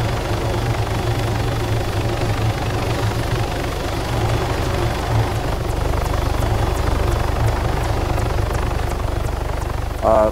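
A military helicopter in Arma 3 drones steadily and loudly up close, its rotor thumping and engine whine constant throughout with little change.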